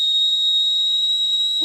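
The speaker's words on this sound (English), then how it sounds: "Should we do a whistle test now since we're talking about it?" A swimrun safety whistle gives one steady, shrill, piercing blast held for over a second, loud and close, with no voices over it.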